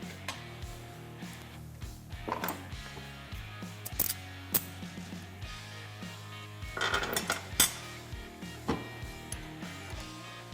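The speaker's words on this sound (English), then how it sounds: "We can go ahead and tighten all the hardware" Bolts on a bed enclosure cage for a Kawasaki Teryx KRX 1000 are tightened with a ratchet, giving sharp metallic clicks and clanks in irregular bursts, close and fairly loud, with no talk.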